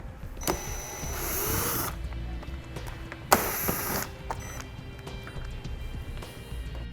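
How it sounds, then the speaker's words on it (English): A T25 Torx bit removes screws while a base plate kit is fitted to a 2016 Lincoln MKX. Two short, whirring driver bursts stand out against a quiet workshop background, with light clicks and handling noise around them. "2 more screws that we're going to need to remove on each side, and I'm going to be using a T25 Torx bit to remove those"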